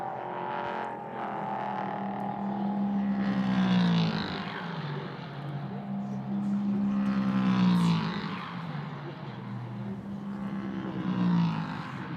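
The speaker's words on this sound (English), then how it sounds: "It's watching a load of cars go around, Chris." Prototype race cars lap the Magny-Cours circuit in the dark, their engines a continuous loud roar that swells and fades as cars pass, with rising and falling engine tones layered over one another.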